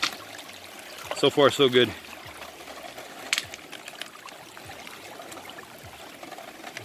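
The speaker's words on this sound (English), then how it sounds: "So we're running it a little slow today so we can wash all the rocks off." Water running slowly through a gold prospecting sluice on the San Gabriel River's East Fork, washing over big river rocks, a steady close trickle and gurgle under a man's brief remark.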